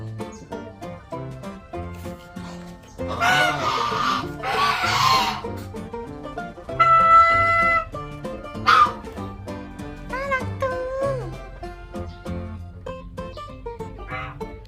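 A flock of geese gives loud, nasal honks and squawks in repeated bursts close by, with yipping bird-like calls layered over a steady background.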